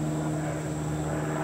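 An airplane passes over a residential neighborhood, a steady loud engine drone with a strong tonal hum, continuous and unbroken with no voices.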